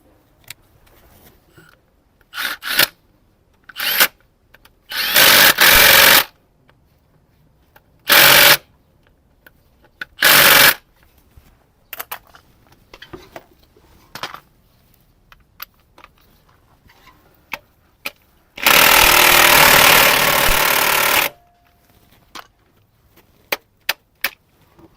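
Impact wrench removing the crank pulley on a Mini 1.6 engine, loud bursts of rattling hammering, several short ones and one long sustained run, separated by quiet pauses and small clicks of tools.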